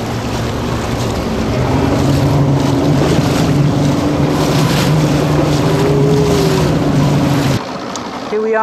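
Steady, loud wind rushes over the microphone aboard a sailboat during a short-course race, with a low hum of water and hull underneath and a slight drop in level near the end.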